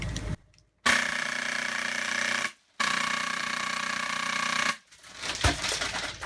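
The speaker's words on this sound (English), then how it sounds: "the firing of the Nerf Rhino dual SMP airsoft gun" A Nerf Rhino-Fire dual SMP airsoft conversion firing full auto, producing two long sustained bursts of rapid mechanical buzzing at close range, broken by short silences and ending in a few scattered clicks.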